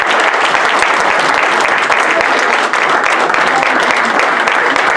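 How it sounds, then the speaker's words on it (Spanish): A church congregation gives loud, sustained applause, many hands clapping together in a dense, continuous roar that fills the room without a break. "Dale un aplauso al Señor"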